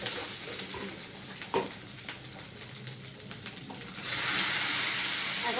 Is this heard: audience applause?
no